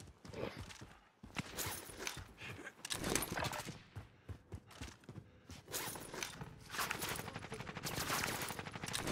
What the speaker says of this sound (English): I'm getting shot now.